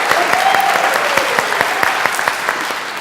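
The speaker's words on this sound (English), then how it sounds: "let's hear you clap and cheer for your group, okay? Okay, first, let's just do a practice clap." A church congregation bursts into a short practice round of clapping and cheering, loud dense applause with scattered whoops close by, fading slightly toward the end.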